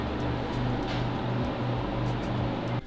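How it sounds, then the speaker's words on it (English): Ceiling-mounted garage heater blowing air over its heating elements, its fan giving a steady, even whoosh with a low hum that runs without a break until it drops away at the very end. "It's got a fan and some heating elements that it's blowing that air off of."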